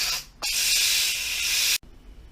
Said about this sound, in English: We're going to release the pressure.